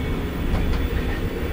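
A moving train heard from inside a carriage, a loud steady rumble and roar with faint rhythmic rattling, continuous and close throughout.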